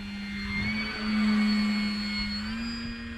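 An MPD Commander model airplane takes off with a steady high electric motor whine that shifts in pitch as the plane climbs away, heard from close by in light wind.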